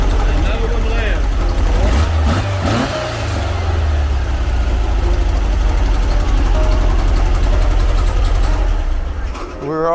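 A 1970 Karmann Ghia's engine runs steadily close by, revving up briefly around the two-to-three-second mark before settling back to a constant idle, with voices talking over it.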